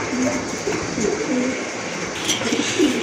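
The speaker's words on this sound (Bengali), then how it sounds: "দুইটাই কিন্তু চুইটাল একদম ফুল ফ্রেশ কবুতর" Pigeons coo in low repeated rolling calls at a sale of fancy and racer pigeons, a steady murmur over constant background noise, with a faint voice now and then.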